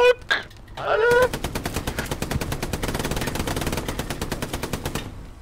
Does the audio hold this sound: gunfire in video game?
yes